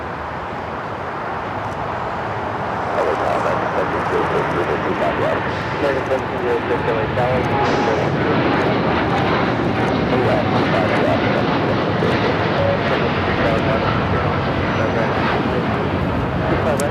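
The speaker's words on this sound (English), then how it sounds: "This is KLM 602 taking off to Amsterdam on the 787-10 Dreamliner" A KLM Boeing 787-10 Dreamliner thunders down the runway at LAX, its engine roar swelling after a few seconds into a loud sustained rumble while people talk over it.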